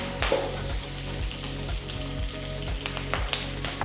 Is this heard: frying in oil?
yes